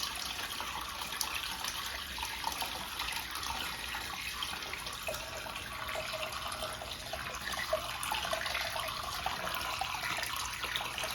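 A toilet flushes using its siphon jet alone, with toilet paper in the bowl, giving a steady broadband rush of draining water that runs on evenly for several seconds at close range.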